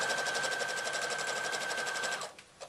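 Sewing machine running steadily to close a handbag seam, a fast even loud stitching rattle for about two seconds before stopping, followed by a faint click or two.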